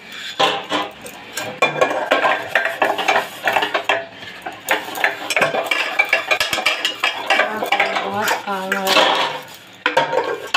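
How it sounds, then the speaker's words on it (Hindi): Dishes being washed at home, with steel pots, plates and cutlery clanking and scraping against each other in a loud, continuous, irregular clatter, near and busy, with running water and handling noises throughout. "आज बर्तन धोना है"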